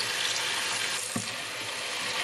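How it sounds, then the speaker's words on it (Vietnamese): Tap water runs steadily over frozen squid in a kitchen sink to thaw it, a continuous close hiss and splash with no pauses. "Cái mình lấy cái vòi nước nè, chế lên cho nó tiếp tục tan"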